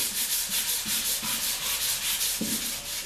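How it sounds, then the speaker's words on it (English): Steady rhythmic rasping of sandpaper rubbed back and forth over painted wood, a continuous close scratching with regular strokes. "I just like to go over it with either 320, 150, or 220 sandpaper"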